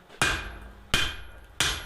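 Three loud, ringing hammer blows on hot metal, evenly spaced about two-thirds of a second apart, while barn door hardware is forged by hand with a hammer on an anvil; each strike leaves a bright metallic ring that decays before the next.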